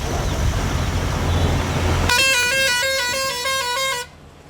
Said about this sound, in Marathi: हॉर्न वाजत वाजत